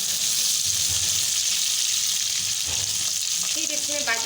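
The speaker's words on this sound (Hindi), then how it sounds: "अब इसमें हम हरी मिर्चें भी फ्राई करेंगे, जो हमने मोटा मोटा काट लिया था।" Thick-cut green chillies fry with okra in hot oil, a loud continuous sizzle with low stirring thumps and a brief scrape near the end.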